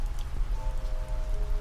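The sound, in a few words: rain falling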